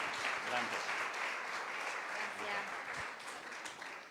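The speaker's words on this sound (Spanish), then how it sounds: "La recibimos también con un aplauso" Steady audience applause fills a church congregation welcoming a woman to the front, a dense continuous patter of many hands at moderate distance that slowly fades toward the end.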